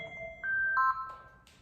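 A work phone rings with a short electronic melody of a few bright, rising tones, close and clear, then cuts off, with no speech.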